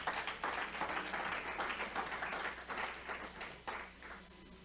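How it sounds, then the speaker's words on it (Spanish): A church congregation applauds, a steady wash of clapping hands that is fairly faint and distant, fading gradually toward the end with no talk over it. "Si puede darle un aplauso al Señor."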